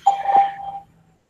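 A Skype call testing service gives a short electronic tone of under a second, close and clear, that fades out into silence.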